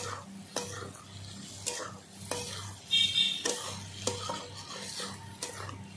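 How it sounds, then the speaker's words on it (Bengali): Large-cut chopped onions being stir-fried in a pan for a Bengali puti fish curry, with intermittent spatula scrapes and clinks against the pan over a soft, low sizzle, close by. "এই দেখো কষিয়ে নিচ্ছি পেঁয়াজগুলো"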